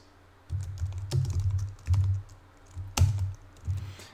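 Someone types on a computer keyboard in several close, distinct bursts of rapid key clicks separated by short pauses, with a few sharper louder keystrokes among them.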